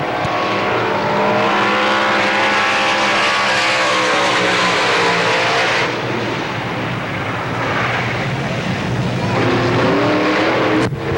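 A race car on a qualifying lap at Pennsylvania Motor Speedway, its engine droning loud and sweeping up in pitch, cutting off sharply, then returning as another revving pass with rising tones.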